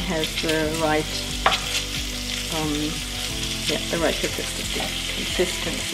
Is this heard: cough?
no